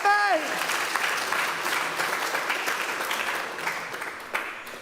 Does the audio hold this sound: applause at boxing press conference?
yes